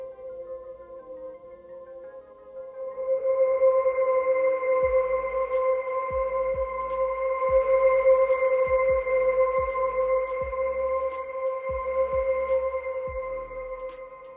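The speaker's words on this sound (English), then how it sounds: "just like a little hum." A low, steady cinematic hum from a Spitfire Audio virtual instrument sustains with layered tonal drones, joined by a series of deep pulsing thumps in an irregular rhythm.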